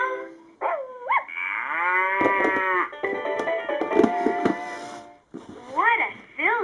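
A LeapFrog Farm Animal Mash-Up toy plays electronic cow moos, several drawn-out rising and falling calls close by, with a short break and then more brief moo-like sounds near the end.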